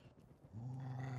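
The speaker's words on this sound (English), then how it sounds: "Yep, that's a Rad Roach." A Rad Roach mutant creature from the Fallout TV series lets out a low, sustained growl that swells after a brief quiet rumble, heard on its own without talk.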